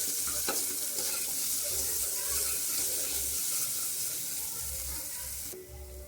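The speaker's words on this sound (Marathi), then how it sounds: "आता हा मसाला आहे ना थोडासा चांगला तेलामध्ये फ्राय करून घ्यायचा" Onion-garlic masala with garlic paste sizzles steadily in hot oil, a dense continuous frying hiss with occasional stirring scrapes, close and fairly loud, easing slightly near the end.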